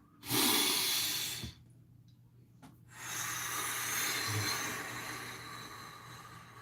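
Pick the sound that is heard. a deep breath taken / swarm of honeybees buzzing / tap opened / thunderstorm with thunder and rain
a deep breath taken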